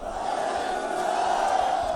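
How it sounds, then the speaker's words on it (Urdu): A large crowd at an outdoor political election rally in Gilgit-Baltistan shouts a slogan in unison, a loud sustained roar of many voices that fills the whole moment. "نعرے بھٹو"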